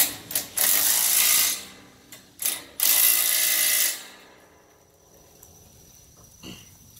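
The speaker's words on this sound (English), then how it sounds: "I'll crank down the two bolts that hold the dovetail to the dovetail neck." Ratchet cranking down the two bolts that hold a ramp dovetail to its neck, two loud sustained bursts of fast clicking separated by short pauses, close and alone, then quiet.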